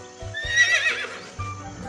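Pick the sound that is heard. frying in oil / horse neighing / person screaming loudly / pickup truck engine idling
horse neighing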